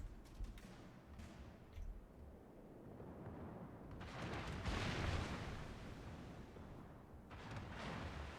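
Warship main guns firing in the video game World of Warships produce deep rolling booms and a dense rumble that builds toward a loud peak near the middle, with scattered sharp cracks.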